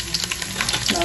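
Garlic frying in hot oil in a pan for pancit bato, a steady close sizzle with light stirring scrapes, brief and fairly loud.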